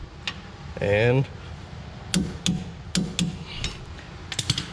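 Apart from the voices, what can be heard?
torque wrench clicking while tightening rear end bolts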